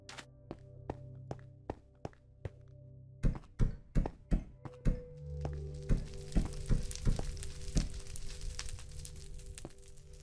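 Fire set burning in Minecraft survival at an iron foundry: a run of regular thunking block-placement taps gives way to a dense, steady crackling roar of flames with occasional knocks, up close.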